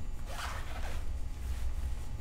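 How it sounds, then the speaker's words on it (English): Double zipper on an Outdoor Research rain jacket being worked, a soft, close rasping run of teeth repeated in short strokes over a low background hum. "This is, again, a double zipper."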